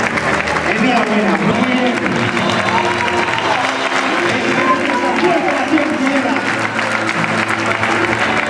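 Sustained applause from a large crowd at a bullfighting recortes exhibition in Tudela, steady dense clapping filling the whole stretch with crowd noise and some voices mixed in.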